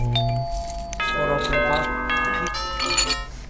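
A bright, chiming bell rings out in a SimCity city-building game, several tonal strikes with sustained ringing overtones overlapping across a few seconds, with a little voice activity around them.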